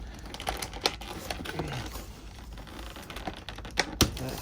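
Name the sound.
cutting zip ties on a Kylo Ren toy package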